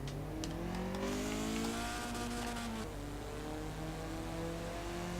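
A Hillman Imp widebody in Forza Horizon 4 revs hard, its engine note rising and falling through gear changes, loud and continuous for several seconds.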